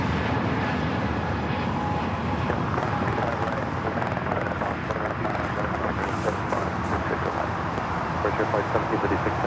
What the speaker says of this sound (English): Frontier 1756 taking off to Houston Intercontinental on the A320neo